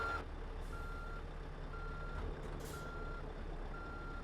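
Truck in Euro Truck Simulator 2 reversing with a trailer, a steady engine idle under evenly spaced reversing beeps that repeat about once a second, with a brief air-brake hiss midway.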